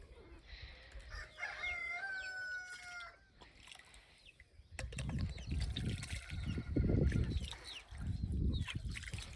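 Hens on a farm cluck while a rooster crows in a long, clear call near the start, followed by steady, louder clucking and scratching from the flock close by.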